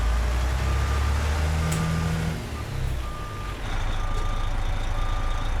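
In American Truck Simulator, a truck with a 389 tractor and Wilson Commander trailer backs up, its reversing alarm beeping steadily in an even rhythm over a low, rumbling engine idle.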